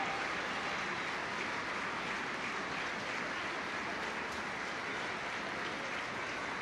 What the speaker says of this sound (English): Applause from Ella Powell.